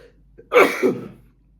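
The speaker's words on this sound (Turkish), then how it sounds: "Alerjik bir hapşırık oldu." A single allergic sneeze from a man seated at a table, a short sharp burst with a quick intake before it, close to the microphone in an otherwise quiet room.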